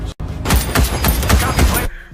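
Gunfire in an action movie battle scene, a dense rapid volley of shots and thuds over roughly a second and a half, loud and close, following a brief pause.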